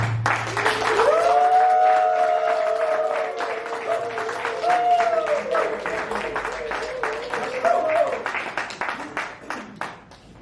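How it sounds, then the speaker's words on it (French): A crowd at a wedding-banns ceremony cheers and shouts with joy. Sustained voiced whoops and ululating cries rise over a steady wash of clapping and noise for about ten seconds, then thin into scattered bursts. "vous allez le manifester pour la dernière fois par des cris de joie, des acclamations et du bruit"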